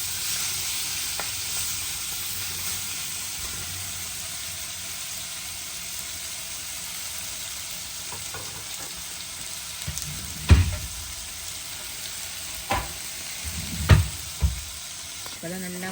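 Curry leaves sauté in hot oil for a Sri Lankan-style fish curry without coconut milk, making a continuous soft hiss, with a few louder utensil knocks and scrapes near the end.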